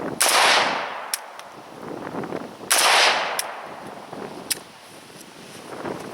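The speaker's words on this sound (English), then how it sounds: "as you fire the gun here" An AK-47 rifle fires two sharp single shots a couple of seconds apart outdoors, each blast loud and close with a trailing echo, set against wind noise and small clicks.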